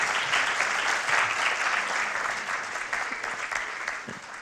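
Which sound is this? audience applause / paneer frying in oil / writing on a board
audience applause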